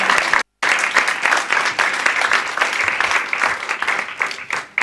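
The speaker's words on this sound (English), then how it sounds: "A loud applause, please." Loud, sustained audience applause from a large crowd at a final session of a gathering, dense and steady apart from one brief cut-out near the start.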